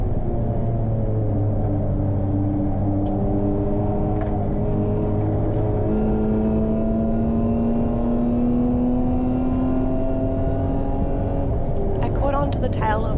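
A BMW E36 race car circuit racing at Hampton Downs, its engine a continuous droning note that climbs and shifts steadily through gears for the whole stretch, loud and close, as from an onboard position.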